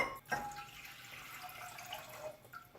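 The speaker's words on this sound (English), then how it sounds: "And we're going to put in our water." Water is poured into a pot on a kitchen stove for fig jam, giving a steady, soft splashing and trickling stream that runs for a few seconds at moderate distance.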